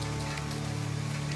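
Rain falls at night in the survival video game The Forest, a steady hiss of drops on surfaces under a constant low hum, brief and unchanging.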